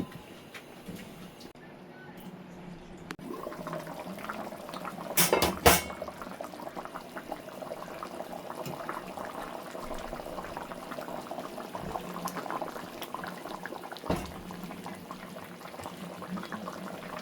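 A covered pot of taro and hilsa fish curry simmers with a steady soft bubbling and burbling, punctuated by a brief louder clatter midway, moderately close and without talk.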